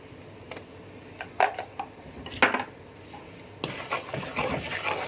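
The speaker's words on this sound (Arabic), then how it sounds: "وبشوح كل ده مع بعضه" Rice sautéed in a pot with salt, pepper, cinnamon and spices: scattered metal spoon clinks and scrapes against the pot, then a denser stirring and light sizzle in the last second and a half.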